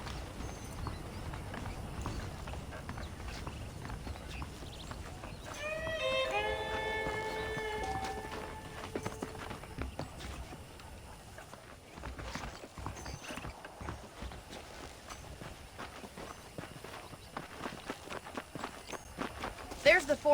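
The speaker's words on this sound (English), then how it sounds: "The horses are saddled up over here." Horses clip-clop with steady hoof beats in the video game Red Dead Redemption, a whinny rising midway, while voices talk over the walking rhythm at a moderate distance.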